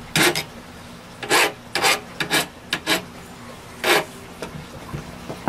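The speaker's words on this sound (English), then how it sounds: "I kind of rasped or filed down just a slight" A metal file rasps a burr off the end of a Saiga 12 shotgun barrel in short, close, scraping strokes, several quick bursts separated by brief pauses.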